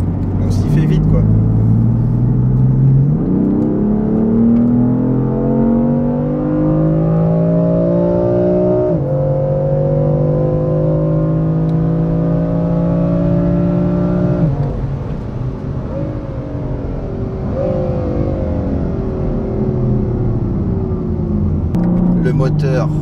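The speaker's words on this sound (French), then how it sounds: "Le moteur, il réagit au moindre coup d'accélérateur, ça prend hyper bas." A powerful BMW S58 engine in a BMW M3 G80 or M4 revs and accelerates through several gear changes, loud and close, with its pitch climbing repeatedly.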